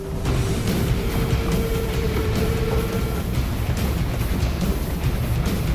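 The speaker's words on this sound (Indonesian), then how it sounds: "menemukan keberadaan kereta Volkov yang masih melaju di jalurnya" A train rumbles steadily along the rails, a continuous loud roar with rattling and a faint whining tone, no voices.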